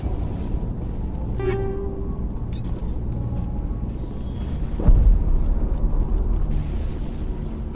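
High-explosive rounds burst in Mass Effect Legendary Edition combat, a single deep boom rising around the midpoint over a steady low rumble of battle ambience, with no talking.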